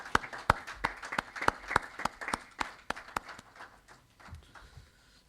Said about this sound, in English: I think we can give them a big round of applause